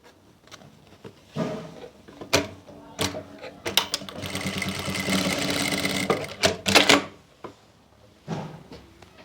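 A sewing machine stitches elastic onto a sharara, running in a steady burst of several seconds between shorter start-stop runs and handling clicks, close by, with no talk.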